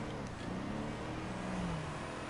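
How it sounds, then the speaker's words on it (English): A minivan engine in GTA 5 Online revs steadily with a smooth, faint, continuous whine, alone without speech. "I wish my minivan sounded like this when I drove it."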